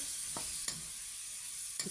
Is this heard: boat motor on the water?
no